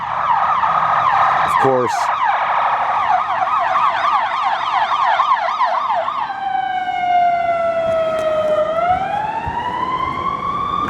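Emergency vehicle sirens in Gary, Indiana, loud and close, first a rapid yelp wail, then a long slow rising and falling tone, with a brief spoken word early on.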